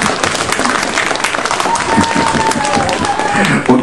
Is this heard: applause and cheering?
yes